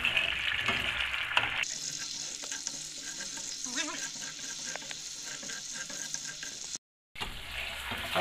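A pan of chicken paksiw with soy sauce, vinegar and sugar sizzles and bubbles steadily at close range, with occasional stirring and utensil clinks and a brief dropout near the end.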